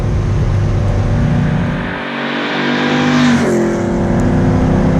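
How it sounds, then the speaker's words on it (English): A 1974 Alfa Romeo Montreal engine runs at high speed, a loud sustained in-car roar with steady harmonic drone, briefly dipping then rising again as revs shift, with no talk over it. "By the sound and feel of the engine, I could be going 150."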